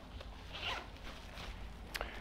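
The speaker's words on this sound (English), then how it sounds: "The Precip jacket does have these pit zips, so you can ventilate underneath your arms by just unzipping" Quick zip of the pit zips on a Marmot Precip rain jacket, a short rasping pull near the mic followed by a second brief tug, quiet and close with no talking.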